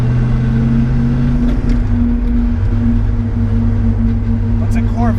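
A Porsche 911 with a swapped-in Corvette V8 engine heard while driving, a loud, close, steady droning engine note with a brief dip in pitch, and someone talking over it.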